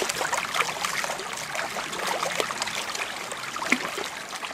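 Creek water runs steadily through a sluice box during an outdoor gold-panning trip, a continuous broadband rush and trickle that stays even throughout with no voices.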